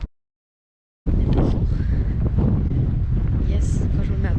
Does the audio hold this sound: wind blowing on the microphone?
yes